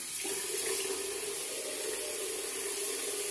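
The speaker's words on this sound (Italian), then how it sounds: "Mi bagno il viso, lo idrato." Tap water runs steadily into a sink while a face is being washed, a close, continuous splashing hiss with no voices.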